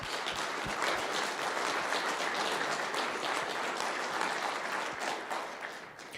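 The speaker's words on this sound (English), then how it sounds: "a big round of applause for all of our veterans" Sustained applause from a large audience honoring military veterans, dense and steady for several seconds before tapering slightly at the end.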